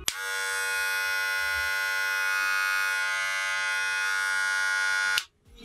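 A cordless Wahl Super Taper hair clipper runs with a loud, steady motor buzz rich in tonal harmonics, holding for about five seconds before switching off abruptly, close and alone without talk.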